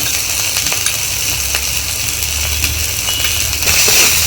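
Spice paste of chili and coriander being fried and stirred in a pan for a vegetarian jackfruit curry, a steady close sizzle with faint scraping ticks throughout.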